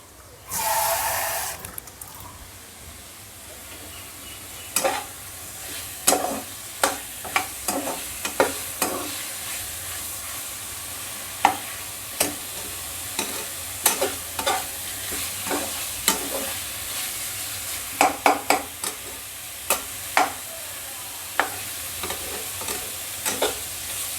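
Water poured into a pan of sizzling potato curry for luchi bursts into a loud hiss at first, then gives way to a steady run of sharp scraping stir clicks against the pan.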